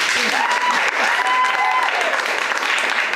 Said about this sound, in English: So when I say applaud if you have seen an improv show